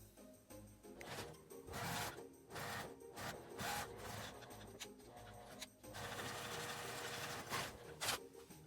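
A sewing machine edge-stitching a folded fabric strip for a homemade toilet paper holder runs in repeated close bursts of rapid mechanical whirring, broken by short pauses, with no talking.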